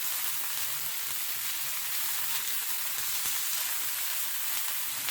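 Peppers and onions sizzling as they soften in a hot pan, a close steady crackle and hiss with faint stirring, no voices.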